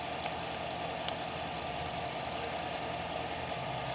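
A Chevy LS V8 engine idles steadily after a lifter replacement, its even mid-pitched running hum continuous and close throughout with no voices.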